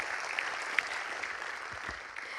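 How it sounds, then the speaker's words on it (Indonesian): Audience applause at a national Indonesian talk show about party registration and verification: steady, dense clapping held at an even level for the whole stretch, with no voices over it. "Tepuk tangan yang meriah untuk kita semua yang sudah bergabung di sini."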